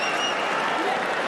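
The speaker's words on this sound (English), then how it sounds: "Listen to this crowd." Arena crowd at a Pride MMA fight event roaring and applauding in a dense, steady wash of noise, with a commentator's voice faintly underneath.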